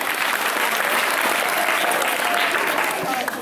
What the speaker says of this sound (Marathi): आणि जोरदार टाळ्या होऊन जाऊ द्या